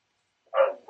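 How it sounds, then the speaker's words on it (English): A single short, faint dog bark sounds from a distance, alone after silence. "If you can hear her barking in the background,"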